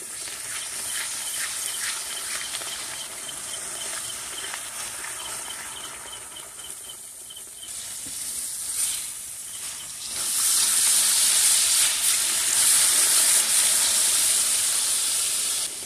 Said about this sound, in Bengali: মশলাগুলো ভালো করে কষিয়ে নেব